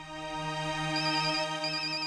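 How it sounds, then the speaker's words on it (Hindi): A phone rings with a steady electronic tonal ringtone, a call from the office, sustained and clear with no voices over it. "ऑफिस से फोन है, मुझे जाना होगा।"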